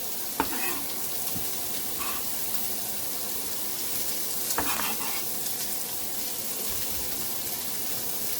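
Chopped onion sautéing in a hot pan, a steady soft sizzle running throughout with a few sharp clinks and scrapes of a utensil against the pan.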